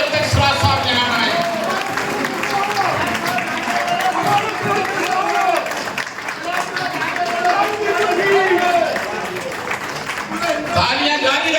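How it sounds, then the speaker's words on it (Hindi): A conference crowd in Bhopal keeps up steady applause as Siraj Sahab arrives, dense clapping running the whole time with voices talking over it. "ताली आप लोग बजाते रहे जब तक सिराज साहब यहाँ आए"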